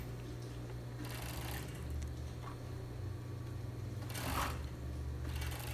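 A sewing machine stitches fabric over a padded bra cup, a steady low mechanical hum running throughout with faint rustles of handled cloth, alone without talk.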